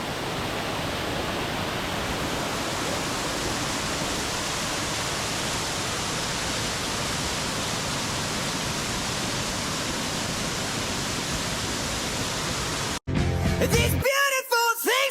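A waterfall on Busuanga, Palawan pours in a loud, steady rushing roar that fills the air without a break, then cuts off near the end as music takes over.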